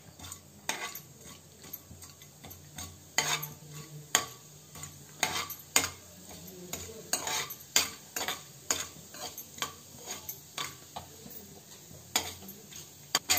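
Cumin, cinnamon and cloves fry in a pan, with a faint sizzle under repeated, fairly loud spatula scrapes and clinks against the metal pan in an uneven rhythm.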